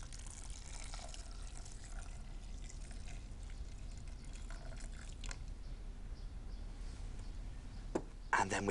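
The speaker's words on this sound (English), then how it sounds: "And just enough water to cover them." Water is poured over rice and tomatoes in a pan, a soft, continuous trickle and splash that runs throughout, ending with a few clinks.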